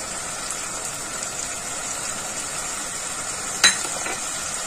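Garlic paste and cumin powder fry for a crab dish, making a steady, even hiss and sizzle throughout, with one sharp click partway through and no talking.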